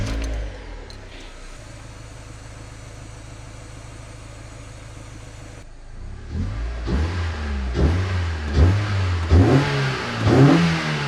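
A car with a freshly refitted wheel settles at a steady idle, then the engine revs hard in several rising, throaty pulls as it drives off, loud and close.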